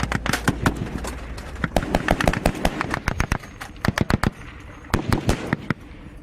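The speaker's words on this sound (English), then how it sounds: "The incoming intensifies. Right, we got incoming and it seems to be coming from further left." Incoming gunfire in Afghanistan: rapid bursts and single sharp cracks of machine-gun and rifle fire, loud and close, irregular volleys clustered throughout with brief pauses, no talk.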